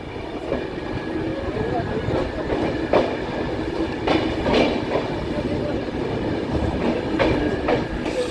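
Kanchan Kanya Express pulling into platform 1 at Bolpur Shantiniketan station, a continuous rolling rumble with repeated wheel clacks and occasional sharper knocks, close and steady, with a voice briefly heard.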